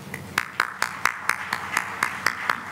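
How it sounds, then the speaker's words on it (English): Applause at a YIVO seminar event honoring a family's contribution. Steady, evenly spaced claps sound fairly close and moderately loud, with no speech over them. "Please join me in recognizing and applauding the family of Ruth Gay for its very significant contribution to this major YIVO educational program"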